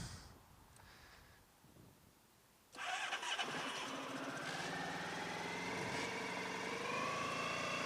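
A motorcycle engine set to full choke is heard. After a few seconds of quiet, low background noise it catches abruptly and keeps running, its pitch and revs climbing steadily, loud and close with no talking.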